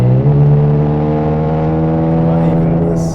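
Ferrari California 4.3 V8 engine and exhaust under gentle throttle, a steady close-up drone with a slow rising pitch, heard from inside the car with no talk over it.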